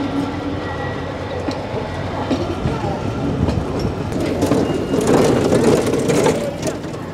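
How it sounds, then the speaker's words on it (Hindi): An express train pulls into Itarsi Junction, heard from inside the carriage as a close, continuous rumble and clatter that swells slightly with faint wheel squeal toward the end. "यहाँ से हमारा अराइवल हो रहा है इटारसी जंक्शन।"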